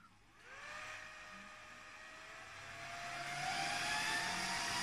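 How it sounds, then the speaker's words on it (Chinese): The fans of a Huawei 6730 100G network switch spin up at power-on, a rising whine that settles into a steady, jet-like roar and grows louder over several seconds, with no talk. "现在我们直接上电，大家捂好耳朵啊！ 它的启动应该像飞机发动机一样"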